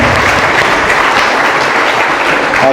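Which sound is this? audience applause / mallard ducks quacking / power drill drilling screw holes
audience applause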